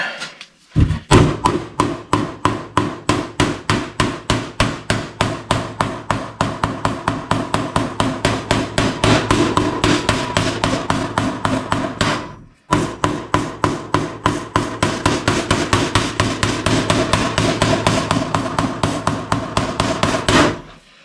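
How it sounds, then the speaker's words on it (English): Hammers strike a warped metal panel on a Datsun 280Z duck bill spoiler in fast, loud, evenly spaced blows, one long run of steady hits, a brief pause, then another run of rapid strikes. "We're gonna take our various hammers and try to work these high areas."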